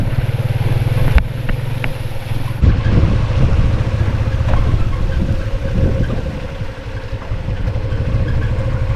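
A vehicle drives through flood water, its engine droning loud and close under a constant wash of splashing and rushing water, with a few sharp knocks early on and no voices.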